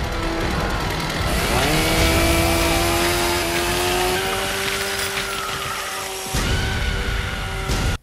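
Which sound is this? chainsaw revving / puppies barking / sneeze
chainsaw revving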